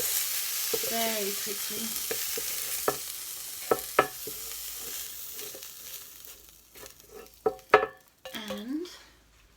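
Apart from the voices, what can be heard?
mushrooms added to a pot and frying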